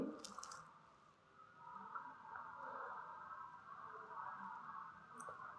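A spinach curry is stirred in a pan with soft, wet squishing and scraping. It is faint and continuous over several seconds, with no talking.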